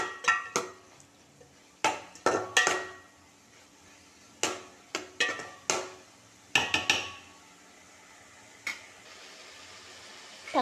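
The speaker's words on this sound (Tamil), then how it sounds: "அதையும் சேர்த்து நல்லா கிளறி விட்டுக்கலாம்" Tomato and chicken gravy stirred in a metal pan, a spoon clanking sharply against the sides in irregular bursts of knocks with quiet gaps between, close and alone.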